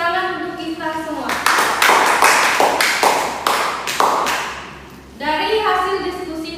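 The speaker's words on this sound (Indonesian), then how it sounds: "Beri tepuk tangan untuk kita semua." A classroom of students applauds together, a burst of dense clapping that swells for several seconds, then fades as voices and talk take over at both ends.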